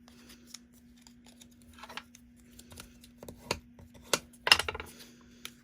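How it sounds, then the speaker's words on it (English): Paper tulip pieces for a handmade card creased with a bone folder, giving a few soft dry scrapes and crisp rubbing strokes spread out, with a denser run of firm paper swipes near the end, close and moderately quiet. "if you have a bone folder, give it a good crease"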